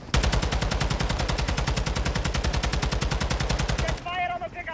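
Rapid, continuous automatic gunfire in a video game rattles loudly and evenly for about four seconds, then cuts off into quieter game sounds.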